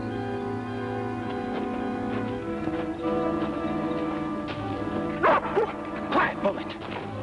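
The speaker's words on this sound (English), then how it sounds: "I heard a dog barking." A dog barks and yips in an old western TV show, several sharp barks near the end over a droning background score, with people talking throughout.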